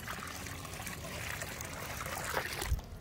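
A big bucket of water pours into a pool dug in a termite mound, giving a steady gushing splash that swells slightly before stopping abruptly.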